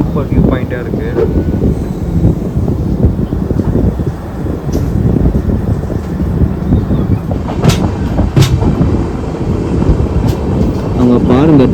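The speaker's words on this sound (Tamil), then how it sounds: "ஸோ இங்கேருந்து அந்த ட்ராக்கில் இப்போ ட்ரெயின் மாறுது" An Indian express train running from Chennai to Sainagar Shirdi switches tracks with loud continuous rumbling and rattling wheels, heavy wind buffeting and occasional sharp clanks over the points, heard close from on board.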